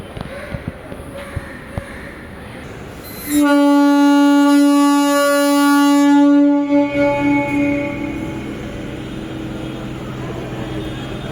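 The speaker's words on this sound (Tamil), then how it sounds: "ஃபர்ஸ்ட் வண்டி வேளச்சேரியிலேருந்து சென்ட் தாமஸ் மவுண்ட்டை நோக்கி புறப்பட தயாராகியாச்சு." An MRTS electric train departing Velachery toward St. Thomas Mount sounds a loud, sustained tonal horn for about three seconds, then rumbles and fades, with faint platform noise before and after.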